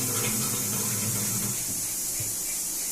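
Water runs steadily for a pet named Bhutu, a continuous close hiss and splash of pouring or tap flow filling the whole moment without pause or voices.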